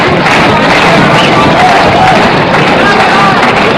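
A restless boxing crowd grows impatient late in round seven of Joe Brown vs. Wallace Smith, a loud, dense murmur of arena voices running steadily throughout.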